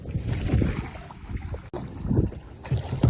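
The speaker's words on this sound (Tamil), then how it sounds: "சின்ன ஒரு போட் மாதிரி இருக்குது அதில் வேற போகிறோம் ஏறி அப்படியே பயணிக்க போகிறோம்" A small boat gliding across a pond in Dambulla, with steady wind buffeting the microphone and a low rumble of water and motion throughout, no talking.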